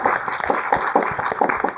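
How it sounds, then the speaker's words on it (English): An audience at a tech meetup applauding for the recording crew, a short burst of scattered hand claps from a room of people. "if y'all can just give a round of applause to Digital Motion in the back"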